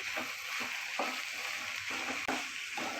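Oil tempering sizzles steadily in a pan as capsicum and turmeric are stirred in, a continuous close crackle broken by the occasional scrape and clink of a spoon, with no voices.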